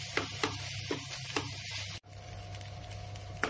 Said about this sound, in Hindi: 10 मिनट मैं इसे भूनती हूँ